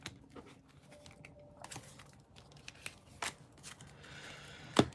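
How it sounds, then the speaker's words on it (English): A deck of cards is shuffled with sparse riffling snaps and soft card slaps, faint and close in a quiet room, with a sharper click near the end. "All right, one full shuffle."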